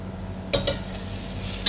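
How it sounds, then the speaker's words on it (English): Spices such as turmeric, sabji masala and coriander powder stirred into sizzling vegetables in a pan for vegetable pulao: a low constant sizzle with two quick utensil scrapes early and another near the end, close and without talking. "Now you mix all the masalas."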